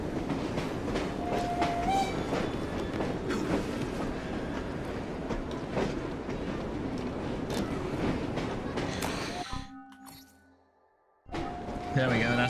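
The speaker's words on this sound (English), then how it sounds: "Oh, is it because I'm in the bloody train?" A train in the video game Assassin's Creed Syndicate rumbles and clatters steadily with rhythmic wheel clicks and a horn-like tone, while someone talks over it before the sound briefly drops away and returns.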